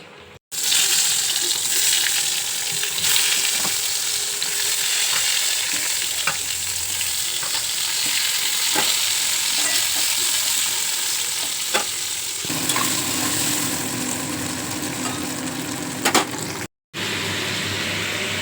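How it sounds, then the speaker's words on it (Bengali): Potatoes and tomatoes fry in a pan with a loud, constant hiss and crackle and occasional scraping of a spatula, the sizzle briefly cutting out near the end before resuming. "এখানে আলু টমেটোটা ভাজছি"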